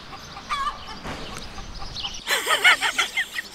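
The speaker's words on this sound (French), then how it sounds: "Derrière vous, il y a une ferme avec des poules." Hens cluck on a farm, starting faint and distant, then breaking into a loud, close burst of repeated clucks and squawks in the second half.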